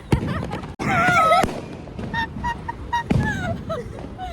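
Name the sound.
Diwali firecrackers bursting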